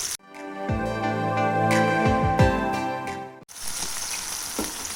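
Mutton seekh kebabs fry in oil on a tawa over the lowest flame, with a steady, close sizzle taking over in the last second and a half after a short stretch of tonal music.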